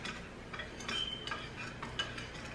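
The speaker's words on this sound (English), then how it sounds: "I'm just gonna add some honey, about a teaspoon of honey in there, and then I'm gonna mix it around" Honey being stirred into a jerk sauce for chicken wings: soft scraping and a light clink of a utensil against the bowl, repeated in quick strokes, close by and fairly quiet with no talking.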